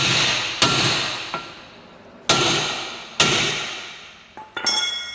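Hammers striking a rusty rear brake caliper on a 1993 Acura Integra: five or six sharp metallic blows at irregular intervals, each ringing briefly before the next, loud and close.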